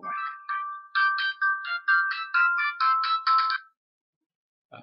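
A phone ringtone plays as a rapid series of about nine bright, tonal melodic bursts with short gaps, then cuts off into silence, a faint sound returning at the very end.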